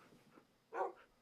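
A single short dog bark in a video game, fairly quiet, following a faint soft whimpering sound.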